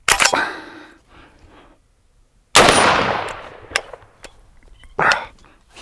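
Sharp, loud rifle shots from an Oceania Precision SP-15 chambered in .223 Rem, one at the start and another near the middle, each trailing a long echoing decay, with a few smaller clicks and pops between.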